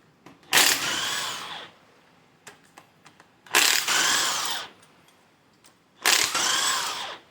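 Pneumatic air tools, likely an impact wrench, loosen fasteners on a Ford 302 non-roller engine block in a garage, firing three loud bursts of about a second each with quieter clicks and clanks in the pauses between.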